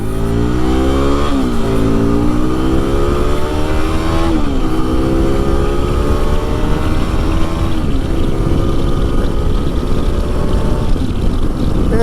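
A Hero Xpulse 210 motorcycle, 2025 model, revs hard in first gear, its loud engine note climbing steadily with a couple of brief dips at shifts or throttle changes, continuous and close throughout.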